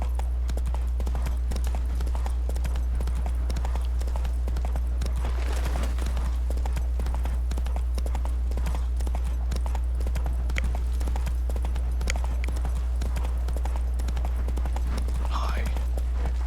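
Horse hooves clip-clop steadily in the open-world game Witcher 3, a continuous rhythmic galloping beat held under a low hum, with a player's voice talking at times.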